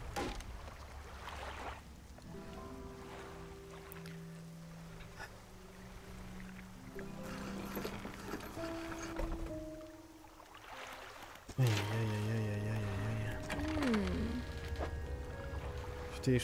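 A fishing boat's new engine in the video game Dredge hums along steadily, mixed with water sounds and ambient game music that shifts partway through.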